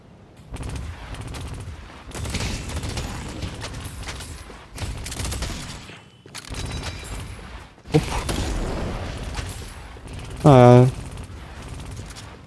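Rapid gunfire from the hero shooter game Deadlock, playing as Infernus, rattles in dense bursts over several seconds, mixed with in-game effects and a player talking over it.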